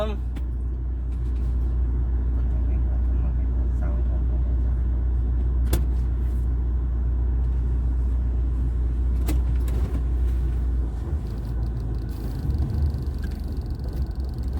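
A used car's engine idles steadily after starting, a low continuous rumble held close throughout, with a few faint clicks and jingles of keys and a brief voice under it.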